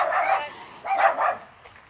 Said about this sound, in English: Wow, that was a vicious barking.